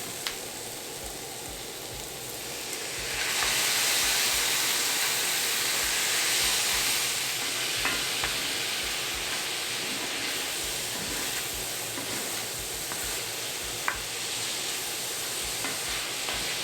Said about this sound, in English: Now I'm going to add the tomatoes into it.